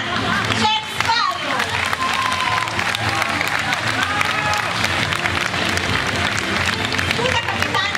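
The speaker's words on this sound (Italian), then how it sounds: "Un grosso applauso a Jack Sparrow!" Audience applause and cheering for a Captain Jack Sparrow cosplayer at a cosplay event, a steady dense wash of clapping with crowd noise and children's voices running throughout.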